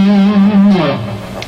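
Electric guitar, likely with some effects, runs through a natural minor scale that leaves out the sixth degree, notes stepping upward alone in a short, close and fairly loud phrase in the style of intense rock sequences.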